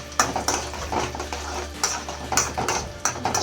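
A spoon clinks and scrapes in a pan of hot ghee where chopped ingredients for carrot halwa deep fry, with irregular metallic taps over a faint sizzle, close by.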